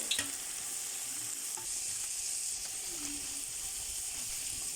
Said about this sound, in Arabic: حمرت البصل والفلفل الاخضر، راح اضيف الطماطم